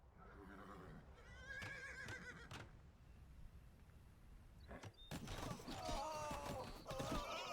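A horse whinnies loudly over battle ambience in Age of Empires 2, followed by crashing, rumbling game-style sound effects; a voice speaks briefly.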